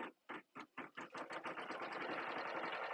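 An embroidery machine stitches the bottom hem of a t-shirt held in a hoop, starting with a few separate bursts that speed up into a steady, loud, continuous rapid stitching whir.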